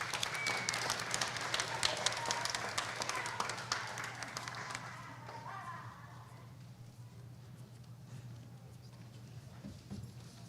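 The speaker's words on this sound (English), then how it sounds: "Let's give them one more round of applause." Applause for honored students at a school board meeting, dense clapping for the first few seconds and then fading into a quieter room with a steady low hum.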